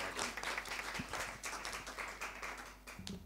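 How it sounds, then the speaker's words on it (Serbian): An audience at a book launch claps steadily in a room, a sustained wash of many hands applauding at moderate distance without letting up. "Aplauz za Milicu Stojković, naravno."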